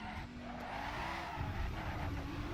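A turbocharged all-wheel-drive car driven in Assetto Corsa, engine droning steadily with rising and shifting pitch and faint tire scrub, fairly quiet and continuous with no talk.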